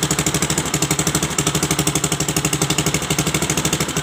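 A Viar three-wheeler motorcycle engine runs steadily with a rapid, even chugging pulse, loud and close throughout, no one speaking.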